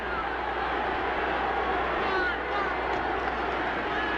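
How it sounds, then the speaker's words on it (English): Stadium crowd at a 1980 NFL game between Oakland and Pittsburgh, a steady dense roar of many voices chanting for defense, continuous and loud without breaks. "The crowd continues to chant defense."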